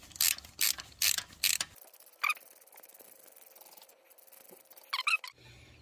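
A socket ratchet with an E14 socket tightens the bottom bolt of a serpentine belt tensioner on a Chevy Cruze 1.4L. Close, crisp bursts of rapid ratchet clicking come in several quick strokes, then pause, then return in a short burst near the end.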